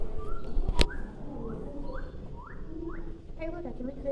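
A superb lyrebird call at a nature and science museum exhibit, a series of about five rising whistled notes evenly spaced, ending in a quick flurry, heard over room noise in a busy hall.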